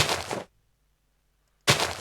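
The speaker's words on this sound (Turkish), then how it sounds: "O ev patladı gitti" A sharp burst of noise from a house exploding in Minecraft cuts off into near silence, then another loud burst erupts about a second later.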